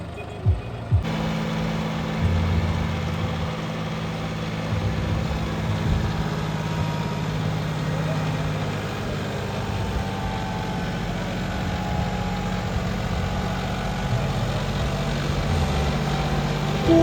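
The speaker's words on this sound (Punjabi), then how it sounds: "ਆਪਣਾ ਟਰੈਕਟਰ ਚਲਾਤਾ" A new John Deere 5210 4x4 tractor engine runs steadily under load in a farm field, a low, constant diesel rumble with a faint high whine, after a brief clunk at the start and no voices.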